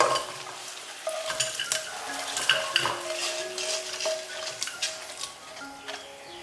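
Stir-fried garlic chicken with shiitake mushrooms, browned in a wok and then scraped and scooped into a clay pot. Metal utensil clinks and scrapes come over a soft sizzle, close and continuous, with no voices.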